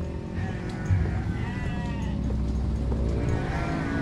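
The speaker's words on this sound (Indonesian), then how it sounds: "Masih banyak kambing." Goats bleat repeatedly at close range in a leafy rural village yard, wavering cries layered over one another against a steady outdoor background.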